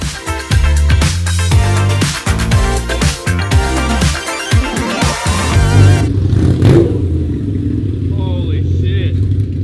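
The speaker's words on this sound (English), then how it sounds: "I'm pretty excited to hear this exhaust." A loud, rough straight-piped Porsche GT3 RS engine revs up and down repeatedly close by, with crackling exhaust, then settles into a lower idle rumble.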